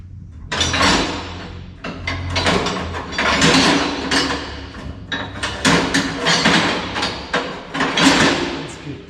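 Metal clanking and banging as a pry bar levers parts off a Dodge Dart being stripped for parts, a busy run of close, loud knocks and scrapes lasting throughout.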